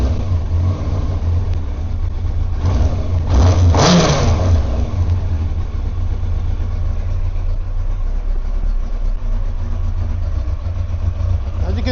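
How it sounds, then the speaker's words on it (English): A 1990s motorbike engine holds a steady idle, then gives one sharp rev that swells loudly and drops back to a rumbling tick-over. "We'll give it a couple of revs and we'll switch it off."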